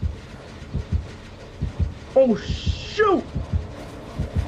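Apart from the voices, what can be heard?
heartbeat sound in Dead by Daylight video game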